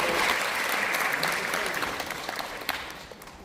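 An audience at an awards ceremony in a library auditorium applauds with dense, steady clapping that gradually fades, fairly close and loud.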